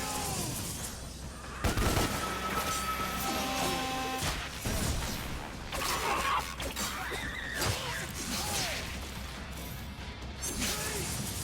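Gunfire from small enemies in DmC: Devil May Cry, scattered sharp shots and crashing impacts amid busy combat noise and game music, with occasional talking.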